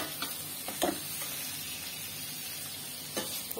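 Chicken kofte fry in masala, giving a steady close-up sizzle broken by a few spoon scrapes and knocks, a cluster near the start and one toward the end, without speech.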